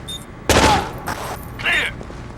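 Gunfire in Tom Clancy's Rainbow Six 3 on Xbox: three sharp, close bursts of shots spaced about half a second apart, with faint in-game chatter between them.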